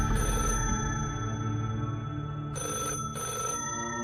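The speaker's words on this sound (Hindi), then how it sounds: "तभी एकदम से एक टेलीफोन की घंटी बजने लगी।" Old-style telephone bell ringing in bursts, a bright metallic trill with a short gap between rings, moderately close in a quiet room.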